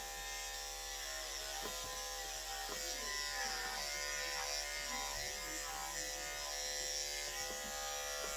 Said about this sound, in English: we'll go ahead and shave underneath the tail around the bottom area as well